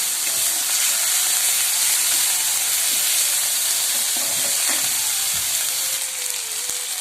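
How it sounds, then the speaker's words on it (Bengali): Ginger, garlic and onion frying together in a pan, a loud, continuous hiss of hot oil that holds steady throughout with a few faint knocks underneath. "আদা রসুন পেঁয়াজ একসঙ্গে ভেজে নেব"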